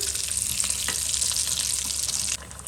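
Kachori made from wheat flour with a potato and onion filling sizzles steadily in hot oil, a close, continuous bubbling hiss that fades abruptly near the end.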